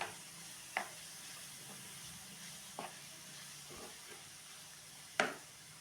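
Chopped onions and tomatoes sauté in a pan on medium flame: a faint, soft sizzle broken by a few sharp spoon knocks against the pan as they are stirred.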